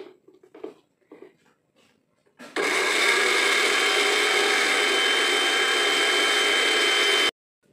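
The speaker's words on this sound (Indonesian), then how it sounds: "kita haluskan saja pakai ini blender" A kitchen blender grinds galangal, ginger and turmeric for Padang-style rendang, starting abruptly after a few soft handling knocks, then whirring loudly and steadily for about five seconds before stopping suddenly.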